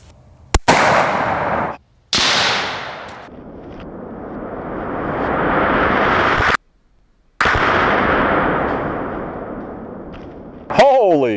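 A 6.5 Creedmoor rifle fires a Hornady 140gr ELD Match bullet into a Boston butt, giving a sharp crack and a second sharp report, followed by long, loud rushing noise.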